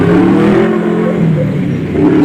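A concrete pump truck's diesel engine runs hard at a construction site pouring a third-floor steel deck, a loud, close, sustained roar with a slight rise and fall in pitch and no voices.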